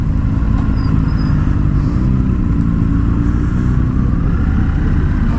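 A 2020 Indian FTR 1200 motorcycle is ridden on the road, its engine a loud, steady drone mixed with rushing wind noise, with no pauses and no voices.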